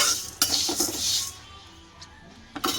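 An empty kadai being stirred and handled, with several sharp metallic clanks and scrapes of a utensil against the pan, loud at first, then quieter, then a final clatter.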